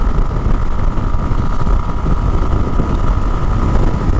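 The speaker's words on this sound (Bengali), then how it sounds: "আমি 100 কিলোমিটার গতিতে বাইকটা চালাই দিচ্ছি, 106 আছে" A motorcycle riding along a highway at about 100 km/h, heard as a loud continuous rush of wind and engine drone without pauses.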